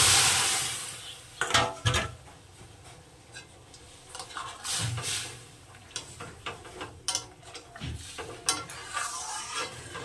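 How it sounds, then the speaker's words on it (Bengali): Dal stirred into fried garlic tempering in a pan, with irregular scraping strokes and faint sizzling at close range, no talk. "আমার রসুনটা ভাজা হয়ে গেছে, এবার আমি এখানে দিয়ে দেবো ডালটা।"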